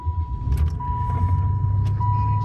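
A 3.8 V6 engine in an old-school car with 73,000 original miles fires up and settles into a steady, close low rumble, while a constant electronic chime tone sounds over it.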